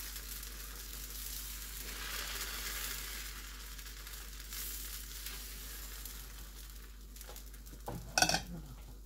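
Lentil dosa batter cooking on a pan gives a faint, steady sizzle, and a brief clatter of utensils sounds near the end.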